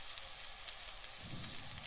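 Mustard seeds, curry leaves, green chilli and onion sizzle and fry in hot oil, a steady hiss with a soft stir near the end, faint and unaccompanied by speech.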